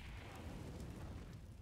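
Low, rumbling grenade blasts from a Counter-Strike match, a brief muffled boom and debris-like crackle that stays fairly faint and distant throughout.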